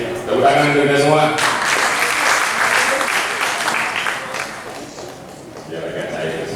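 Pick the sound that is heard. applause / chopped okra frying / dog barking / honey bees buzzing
applause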